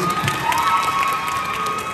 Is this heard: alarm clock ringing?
no